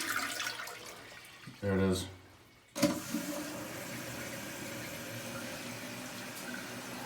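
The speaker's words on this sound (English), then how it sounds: "And then you should just see it flush." A toilet flushes after its flapper was replaced: a brief rush, a pause, then a sharp onset into steady draining and refilling water. A voice speaks briefly near the start.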